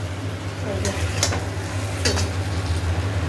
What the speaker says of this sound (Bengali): এবার মাংসটা দেবো তারপরে মশলা দেবো ভালো করে নেড়ে নিই